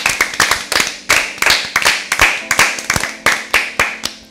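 An audience at an Easter Bible quiz claps for a winning team in a quick, fairly regular burst of crisp, close handclaps lasting about four seconds, with no talking.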